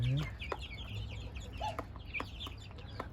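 Hens clucking among their chicks in a backyard flock, soft repeated clucks mixed with high chick peeps, fairly close and quiet.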